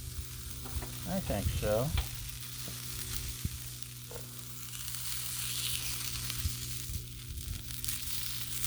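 Sausages frying on a hot Blackstone griddle give a steady sizzle throughout, close and moderately loud, with scraping and stirring noises near the start and a brief spoken remark over the cooking.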